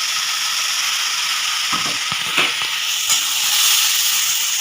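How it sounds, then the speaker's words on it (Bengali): Chilli, onion, garlic and ginger paste sizzles steadily in hot oil over high heat, a continuous bright hiss with a few soft clinks and stirring taps, heard alone. "আঁচটা জোরে করে দিয়ে আমি কাঁচা লঙ্কা, পেঁয়াজ, রসুন আর আদার পেস্টটা দিয়ে দিচ্ছি।"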